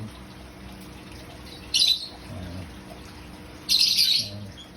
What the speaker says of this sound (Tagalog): Ito naman si GP, yung turuan kong ibon na best friend ko yan.